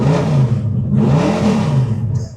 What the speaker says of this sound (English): And I want to go ahead and get a startup video for this guy.